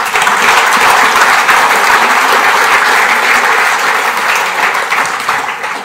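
Sustained audience applause at a German football club talk show, dense and loud throughout, fading slightly toward the end with no voices over it.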